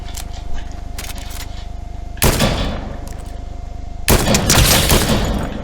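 Heavy sniper rifle in Fortnite Chapter 3 Season 3, firing two loud, sharp shots a couple of seconds apart, each followed by a lingering rumble over a steady game-ambience hum.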